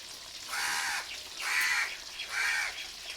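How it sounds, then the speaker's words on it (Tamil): A crow perched near a house gives three loud, harsh caws spaced about a second apart, close by and clear, with no talking. "மூணாவது தடவை வந்து உட்காந்துருக்கு ஏன்னா சாப்பாடு வச்சு வச்சு பழக்கமாயிடுச்சு இந்த காக்காவுக்கு எட்டே போக மாட்டேங்குது"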